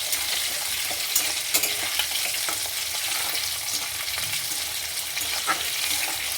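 Chicken balls frying lightly in a pan over a high gas flame give a steady, close hiss with small crackles and a few louder pops, and no one speaks.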